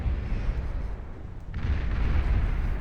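Bombs from a nuclear bomber exploding in an 8v8 deathmatch of the strategy game Beyond All Reason: a dense, continuous rumble of booms that swells louder about halfway through, with no talk.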